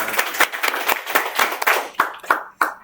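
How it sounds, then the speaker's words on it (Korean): An audience at an education club session claps in welcome, a small group's hand claps sounding close and distinct, thinning out into a few separate final claps. "박수로 환영하겠습니다"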